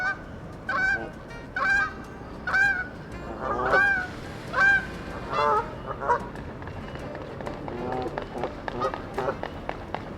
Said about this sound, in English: The geese are being a menace.